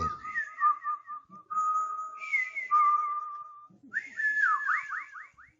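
A lone, clear whistle wavers through sliding, warbling notes with pauses between phrases, thin and eerie against a silent background.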